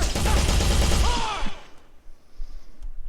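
An AI squad in a game fires guns in a dense, loud burst of overlapping shots that stops abruptly, leaving a faint scattered background.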